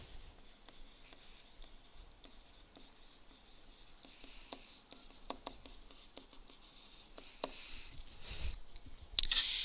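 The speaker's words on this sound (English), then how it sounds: "And you can draw a best fit line." A pen scratches on paper while drawing a best fit line on a graph, with quiet intermittent strokes and small ticks that grow busier and slightly louder near the end.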